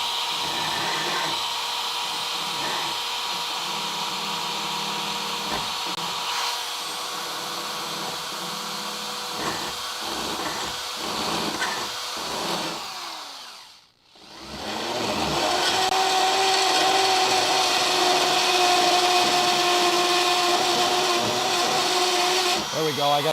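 A rotary burr tool grinds rust off a Dodge Crew Cab truck in a shop, a steady high-pitched whine that keeps running, cuts out briefly near the middle, then resumes louder, with people talking over it.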